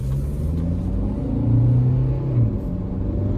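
A Tata Curvv diesel automatic's engine rumbles low and steady, swelling slightly as the car pulls away, heard from inside with no talking.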